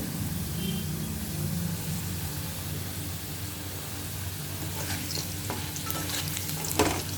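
Sliced ridge gourd and potatoes fry in a pan with a continuous close sizzle, and spoon scrapes and stirring clatter sharpen toward the end, with no talking.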